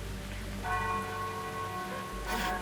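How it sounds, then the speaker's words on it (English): Bell tolling far off in a dark fantasy scene, its steady ringing tones drawn out over a soft rain-like hiss, with no voices. "You hear it in the distance, the bell ringing"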